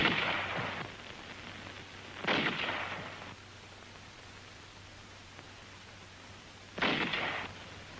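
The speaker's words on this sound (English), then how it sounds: "the highly mobile 75mm pack howitzers delivered continuous fire to the north" Three booming reports from 75mm pack howitzers firing on Iwo Jima, each a loud blast with a rumbling tail, spaced unevenly across a steady hiss of old recording noise.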